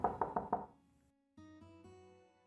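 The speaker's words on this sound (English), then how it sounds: "The knocking was much more aggressive this time." Aggressive knocking on a door in a video game: four hard, fast knocks close by, followed by a sustained musical tone.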